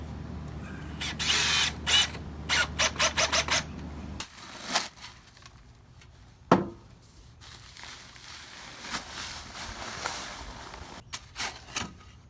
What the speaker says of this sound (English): Now we're going to secure the handrail with deck screws.